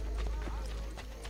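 Horse hooves clip-clop at a steady pace in the video game Assassin's Creed Brotherhood, set against a constant low rumble.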